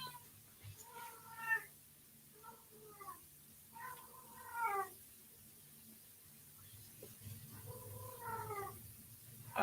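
A cat meows repeatedly in short, rising and falling cries spread over several seconds, fairly faint over a low background hum.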